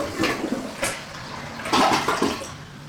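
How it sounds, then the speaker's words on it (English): A household toilet being flushed during bathroom demolition, with a gurgling rush of water and a second surge as the bowl drains, close and clear with no talking. "So now let's flush this toilet."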